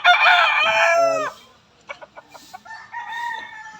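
A four-month-old Allen Gray gamefowl rooster, moulting, crows once loud and close, followed by a few short clucks and a brief second call.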